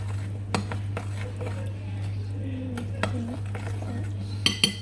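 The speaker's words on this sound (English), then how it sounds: "I'm mixing it with a spoon first, then my whisk" Spoon scraping and clinking against a bowl while cake batter is stirred, with occasional sharper knocks near the end over a steady low hum, close and moderately quiet.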